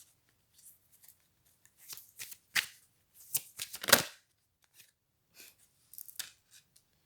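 A deck of cards being shuffled for a card reading, soft riffles and shuffles in short irregular bursts, close but quiet, with no talking.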